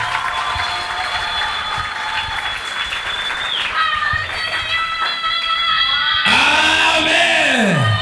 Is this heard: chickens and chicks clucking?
no